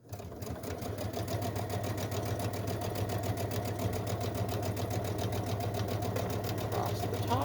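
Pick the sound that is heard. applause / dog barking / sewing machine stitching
sewing machine stitching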